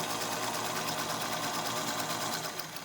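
A sewing machine stitches steadily along a marked line on fabric for a bowl cozy, a close, continuous rapid whir with no pauses.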